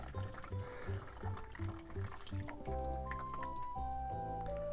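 Hot water pours steadily into an instant rapokki curry carbonara cup up to the fill line, a continuous liquid splash with a rising fill tone, loud and close.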